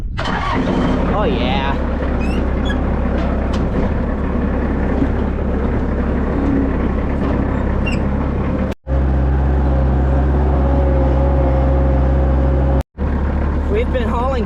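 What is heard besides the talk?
farm vehicle engine starting and running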